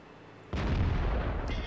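A tank shell striking and glancing off armour in World of Tanks, heard as a sudden loud, heavy boom that rolls on with a dense rumbling tail and a brief metallic ring near its end.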